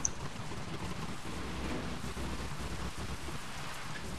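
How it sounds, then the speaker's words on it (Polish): Steady rain in the War Thunder tank game, a constant dense hiss of falling drops with low rumbling, heard alone without talk. "Deszcz ładnie pada."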